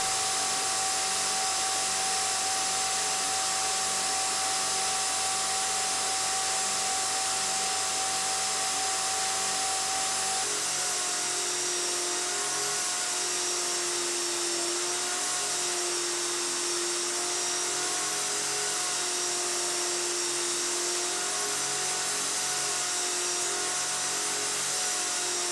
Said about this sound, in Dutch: dan ga ik ze over de schuurmachine schoonmaken